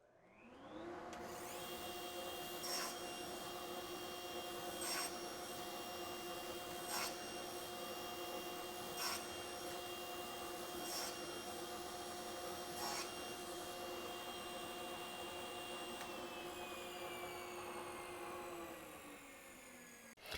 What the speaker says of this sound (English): I'm going to turn on the dust collector, and you'll see how this works.